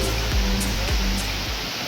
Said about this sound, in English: I think we are pretty close to the waterfall now. I can hear it